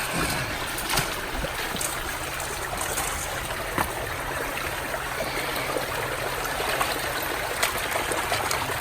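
A slow, steady flow of water running through a high banker dredge, a continuous moderate trickle and wash with small splashes, close by and without talk throughout.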